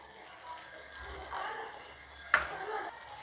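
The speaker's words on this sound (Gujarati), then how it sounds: "હવે 1/4 કપ જેટલું પાણી એડ કરીશું" Water is poured into a simmering shahi paneer gravy, a soft splashing pour that ends in one brief sharp splash, faint and close.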